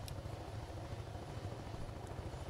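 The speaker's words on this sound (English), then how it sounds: "I see you come flying in your little tiny helicopter." A small helicopter flying in the Take On Helicopters video game gives a continuous, faint rotor drone with a throbbing low pulse that holds steady from start to finish.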